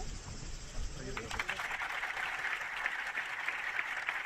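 Applause from a crowd at an event involving Spain's national team and Pedro Sánchez, arriving after a brief lower rumble and continuing as a dense, moderately distant clapping wash to the end.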